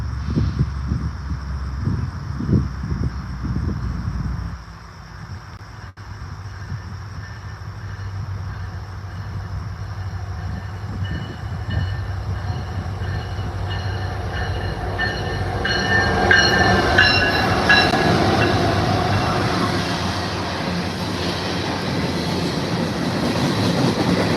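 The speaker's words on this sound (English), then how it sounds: "Here's our westbound freight train here on BNSF." A westbound BNSF freight train of empty coal cars rolls past at Ottumwa, Iowa: a low rumble and steady wheel clatter build and grow louder toward the end, with rhythmic clicks and faint metallic squeals.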